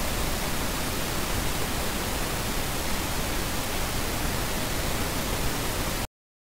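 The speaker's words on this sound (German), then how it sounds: "das rosa Rauschen ist in der Audioproduktion oder Audioverarbeitung deshalb so wichtig" Steady pink noise demonstration tone used in audio production, a dense even hiss weighted toward the low end, constant and loud for six seconds before cutting off abruptly.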